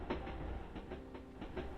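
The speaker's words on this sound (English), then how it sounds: "as the train carries you slowly toward the golden horizon" Train wheels roll over rail joints in a soft, regular clickety-clack rhythm, a faint steady rumble underneath, heard alone at low volume.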